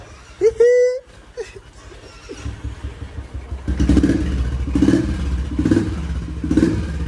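A motorcycle engine hums and revs in repeated surges while a voice talks over it; a brief whistle-like tone sounds near the start.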